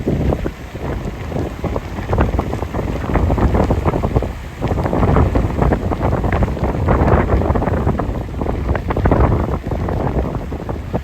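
Strong hurricane-force wind from Hurricane Milton roars at Ormond By The Sea with a rough, continuous gusting. Buffeting noise on the microphone rises and falls throughout, with no voices.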